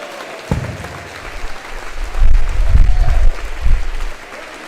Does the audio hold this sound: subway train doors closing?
no